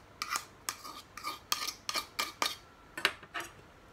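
Beef tartare mixture with chopped pickles and capers being stirred, a run of about nine sharp, evenly spaced clinks and scrapes of a utensil against the bowl, close and clear with no talking.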